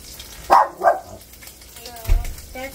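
A dog gives two sharp barks close by, followed by a softer yip amid quiet indoor kitchen background noise.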